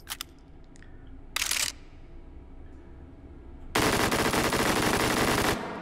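Full-auto bursts from a rifle in the VR shooter Hot Dogs, Horseshoes & Hand Grenades: after a few isolated clicks and one short burst, a loud sustained stream of rapid automatic fire runs for nearly two seconds.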